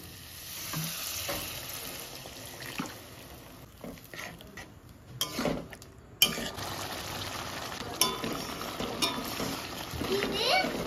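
Shrimp and pointed gourd cooking in a pan with a little water added, a soft continuous sizzle with occasional stirring clinks and bumps, fairly quiet and close.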